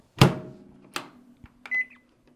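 A microwave oven melting white chocolate in short bursts hums with clicks and clunks, then beeps a couple of times near the end; a short, close, indoor sound with no talking.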